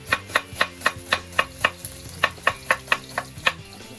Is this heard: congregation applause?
no